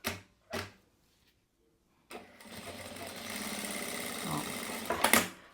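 Sewing machine running through nylon fabric panels placed right side to right side, stitching them closed with an opening left for turning; a steady mechanical whir with rapid stitching rhythm follows a few brief knocks and a pause, ending with louder bursts.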